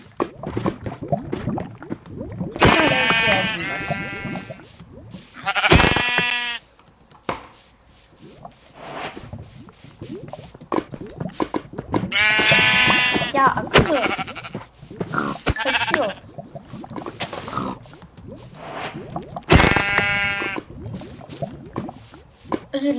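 Video game sheep bleat repeatedly in loud, wavering calls spaced several seconds apart, with scattered clicks and low grunts between them.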